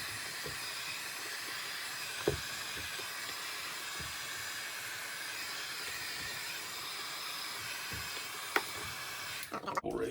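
A heat gun blows against vinyl tint film on a BMW E46 headlight, a steady faint airy hiss held throughout with a few light knocks and handling sounds, and a rustle at the very end.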